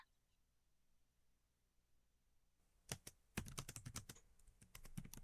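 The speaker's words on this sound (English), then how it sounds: "He returned his attention to his screen and began typing again." Fingers tapping on a computer keyboard in a quiet room, starting after a near-silent pause as scattered close keystrokes that build into a fast, irregular burst of typing.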